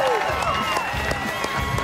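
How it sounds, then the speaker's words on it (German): Guests at a party clap and cheer for a sister, a lively crowd ovation with voices calling out over the clapping. "Ein Applaus für meine große Schwester Abby"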